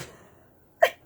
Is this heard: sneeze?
yes